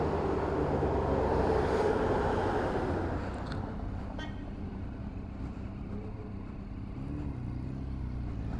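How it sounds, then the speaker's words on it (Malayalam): A bus on a rainy road near Kannur passes close by with a loud, heavy engine roar. It eases after a few seconds into a steady road rumble. "എൻ്റെ മോനെ, ബസ് എന്ത് സൗണ്ട്"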